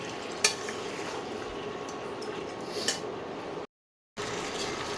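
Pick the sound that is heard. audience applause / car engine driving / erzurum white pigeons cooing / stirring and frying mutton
stirring and frying mutton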